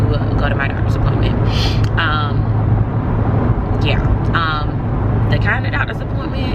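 Steady low road rumble and engine hum inside a moving car on a 25-minute drive, with a person talking over it throughout.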